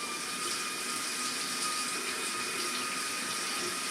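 Steady hot water streams from a light-changing shower head, a continuous broadband hiss and splash holding constant level throughout with no voices.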